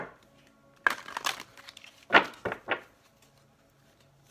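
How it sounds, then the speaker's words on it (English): Tarot cards being shuffled during a Sagittarius reading, a few short crisp riffles and snaps of the deck close by, separated by quiet pauses. "One more shuffle."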